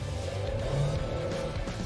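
A BAIC B40 Plus SUV pulls uphill under throttle, its engine drone steady and fairly loud from inside the cabin, holding a continuous low hum across the short stretch.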